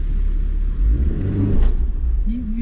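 A manual-transmission car engine revs as the clutch is let out, a mid-pitched rumble that swells and wavers briefly, heard close up in the cabin without clear speech.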